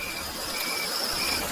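Steady rain hisses around a station in a Bengali horror cartoon, a dense unbroken wash with a faint high insect-like whine running through it, close and continuous with no voices.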